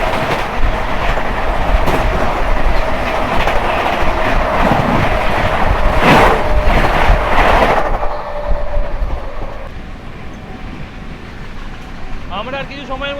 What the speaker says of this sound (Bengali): এবারে দেখা হতে চলেছে মুম্বাই মেলের সাথে।